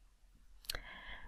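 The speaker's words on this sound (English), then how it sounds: "I'm going to click the refresh button again" A single crisp mouse click sounds close and alone on a refresh button, followed by faint room hum.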